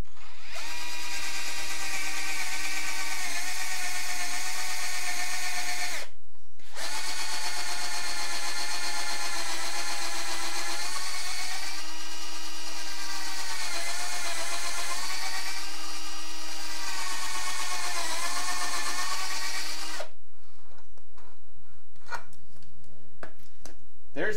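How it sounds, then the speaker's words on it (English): A power drill bores holes into wooden table legs with a loud, sustained high whine that wavers in pitch, pauses briefly once, then stops before a short stretch of quieter workshop noise. "once I insert the drill, I'll be able to drill straight on down."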